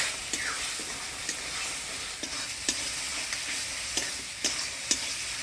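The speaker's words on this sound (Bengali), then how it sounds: "মশলাটা ভালোভাবে কষে নিলাম" Ground spice paste of coriander, cumin, ginger, chilli, turmeric and salt with crushed garlic and a splash of water fries in a pan, a constant sizzling hiss broken by periodic spoon taps and scrapes.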